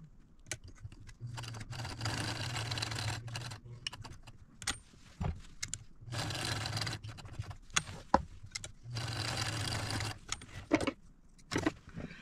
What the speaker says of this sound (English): So I'm going to go sew that box, and we'll have to pivot at the corners